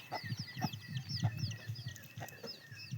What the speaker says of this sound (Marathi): कोंबड्या कोंबड्या कोंबड्या कोंबड्या किती पिलं ती